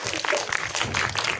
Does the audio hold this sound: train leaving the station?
no